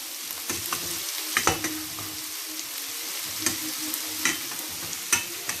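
Meat boils and sizzles in its own released water in a pan, a steady low bubbling hiss with occasional soft stirring knocks and pops.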